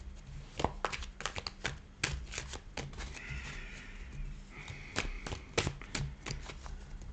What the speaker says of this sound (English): I actually do shuffle the cards, believe it or not.